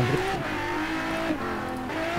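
A car drifting in the video game Forza Horizon 3, wet rainy conditions, a steady sustained tire squeal over a droning engine, close and continuous.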